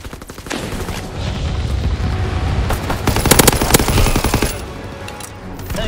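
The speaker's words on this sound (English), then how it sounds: "Engaging enemy aircraft. Flak guns firing." Flak guns in Call of Duty WWII fire in dense, rapid bursts over a rumbling battle din, with a sharper, louder cluster of shots near the middle before easing off.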